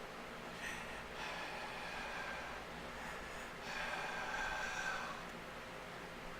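A voice imitates heavy breathing over a phone line: slow, raspy, noisy inhales and exhales running steadily throughout, with two longer breath swells, close and fairly quiet.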